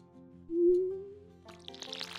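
Crops being watered in the farming game Stardew Valley: a brief rising watering-can tone, then a light, sparkly patter of splashing drips, fairly quiet and alone.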